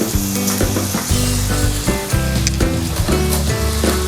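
Ginger sizzles steadily in hot oil while aromatics are sautéed for a spicy Bicol Express fish dish, a continuous frying crackle that stays fairly loud for the whole stretch, with no voices.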